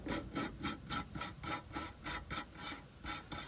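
A wrench works an 18mm castle nut loose during a Ford EA-EL front suspension teardown, a close, rapid, regular rasping ratchet rhythm of about a dozen strokes with no talking.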